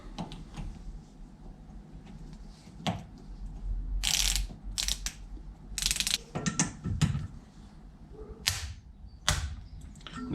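Ratchet clicks come in short bursts as a nut is tightened onto the hex of a Toyota Starlet 4E-FE turbo IACV delete plate, with several quick rasping runs separated by pauses over quiet workshop ambience.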